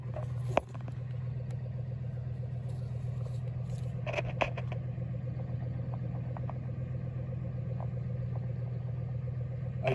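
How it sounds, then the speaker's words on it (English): A truck engine idles at a steady low rumble, running continuously near the listener beside a tree where bees are being gassed, with a few faint knocks and clicks over it and no talk. "So we have the truck running."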